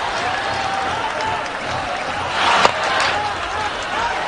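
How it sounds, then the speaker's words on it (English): Dhaka supporters at a cricket match roar in a broad, sustained crowd noise that swells near the middle, with a sharp crack in the middle of it. A commentator talks over the crowd. "And just listen to that crowd, the Dhaka supporters"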